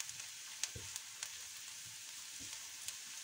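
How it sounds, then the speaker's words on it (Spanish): Onion caramelizes with brown sugar in a pan, giving a soft, steady sizzle with faint frying crackle and a few light stirring knocks, quiet and with no talk. "una cucharadita de azúcar moreno y la vamos a caramelizar un poquito"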